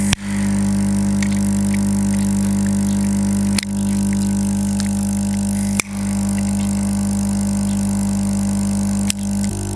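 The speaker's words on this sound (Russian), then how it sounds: "Включаем компрессор на полную мощность" An air compressor on a Hobbi Smoke smoke generator runs at full power for cold-smoking mackerel, giving a loud, steady electric hum with a constant drone, broken by a few sharp clicks.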